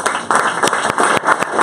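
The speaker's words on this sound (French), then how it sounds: "Vous pouvez les applaudir." An audience at a Disclose launch event in Strasbourg claps for the guests. The applause is loud and close, and its texture swells and dips in short bursts.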